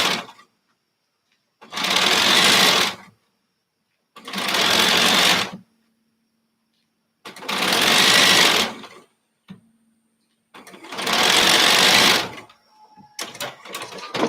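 Sewing machine stitching fabric strips for a quilt block, running in four loud bursts of rapid mechanical whirring separated by short silences, with small handling clicks at the end.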